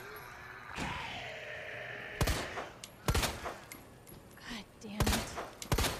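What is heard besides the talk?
gunfire in Resident Evil 2 video game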